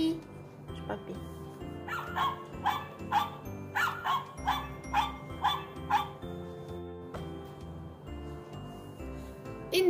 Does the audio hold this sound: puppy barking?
yes